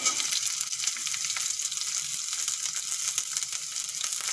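Chopped onion goes into a pan with garlic that is already frying. A loud, dense, steady hiss of sizzling oil runs throughout, with faint stirring underneath.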